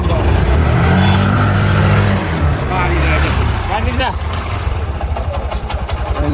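A Bajaj CNG auto-rickshaw engine runs loudly close by, its pitch rising and falling as the accelerator is revved, with voices talking over it.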